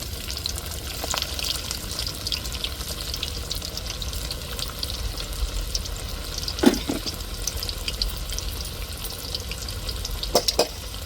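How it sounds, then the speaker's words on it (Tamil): Fish cutlets placed into hot oil, giving a steady, close bubbling sizzle of frying throughout, broken by a few brief clinks of a utensil, with no talking. "கட்லெட்டை இப்போ எண்ணெயில் போட்டு அப்படியே எடுத்துருவோங்க"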